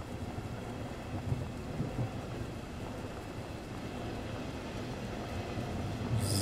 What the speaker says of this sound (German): da fährt unsere S-Bahn weg